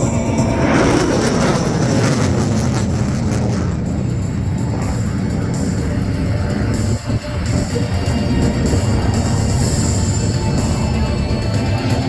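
An RAF F-35A Lightning II jet roars loud and steady at the Shellharbour airshow as it makes a vertical departure, its engine blast filling the air with a broad, continuous rumble.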